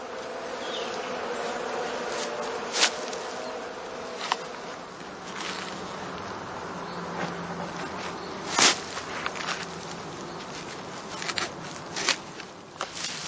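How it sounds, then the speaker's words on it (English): Bees buzzing steadily around the entrances of traditional hives at an apiary in Germany, a continuous insect drone with individual bees flying close past now and then, with no talk. "The entrances stay open until evening to allow the bees to forage freely."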